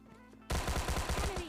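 Rapid bursts of gunfire in the mobile game PUBG Mobile Lite erupt loudly and abruptly after a quiet half second, firing in quick repeated shots until the end.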